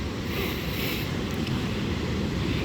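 A strong, constant southeast wind batters the microphone at the winter Black Sea coast at Arkhipo-Osipovka while storm waves rumble and surge beneath, a dense, unbroken roar throughout.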